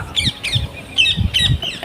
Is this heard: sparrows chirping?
yes